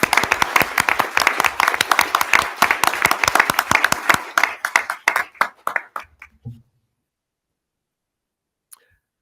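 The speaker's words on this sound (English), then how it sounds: "Please join me in giving a round of applause to our two District 128 principals." An audience at a school board meeting for District 128 applauds two principals: a dense, lively burst of clapping that thins to a few scattered claps and ends in silence after about six seconds.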